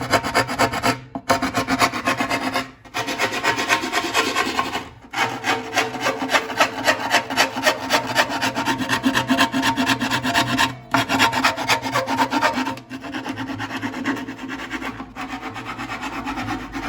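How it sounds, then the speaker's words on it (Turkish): Steady, continuous rasping strokes of a sanding block on wood, leveling a saz (bağlama) part, rubbing back and forth with brief pauses between passes, close and fairly loud. "Zımpara takozumuzla şimdi tesviyesini yapacağız"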